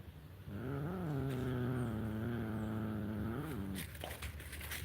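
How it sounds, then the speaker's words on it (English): A cat meows in a long, drawn-out wail, its voice wavering up and down before breaking off, followed by faint rustling. "He's a big old kitty."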